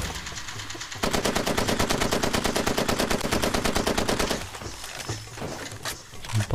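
Automatic gunfire in Far Cry 2 rattles in a fast, steady stream of loud shots for about three seconds, then gives way to quieter in-game clatter and movement.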